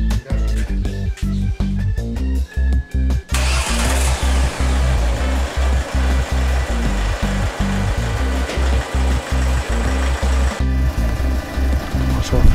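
Car engine idling with a rhythmic chugging, then revving into a steadier, busier drone as a Ford Powershift gearbox is run through the gears, settling back near the end.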